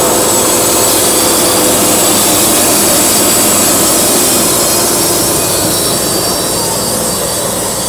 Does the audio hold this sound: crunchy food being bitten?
no